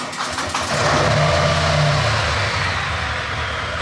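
A heavy cruiser motorcycle engine cranks and catches, then settles into a loud, steady low rumble close by, with no talking.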